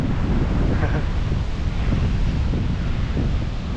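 Atlantic ocean waves and strong wind along the Madeira coast, a steady loud roar of surf with wind buffeting the microphone throughout, no voices.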